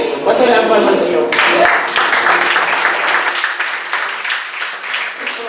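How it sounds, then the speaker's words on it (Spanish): A church congregation breaks into clapping and raised voices during a sermon. The sound is dense and close, and the cheering and applause carry on for several seconds. "¿Cuánto le dan palmas al Señor?"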